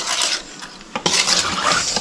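Close, wet mixing and scraping of fish with spices in a bowl, a continuous churning stir with a couple of louder knocks partway through, no voices.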